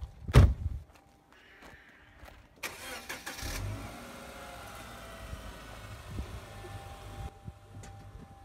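A car door thumps, then the engine turns over and catches, followed by a steady mid-pitched running engine as the car pulls away, moderately close with no talking.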